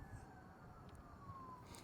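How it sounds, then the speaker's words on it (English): Emergency vehicle sirens wail faintly in the distance, a thin high tone slowly sliding downward over a low background rumble, with no voices. "God, these sirens every day, all day, at night"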